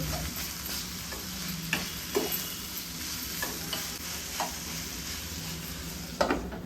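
Chopped onions fry in oil under a lid in a covered pan for a potato curry, giving a steady soft sizzle broken by a few sharp clicks of stirring or lid contact, with no voices.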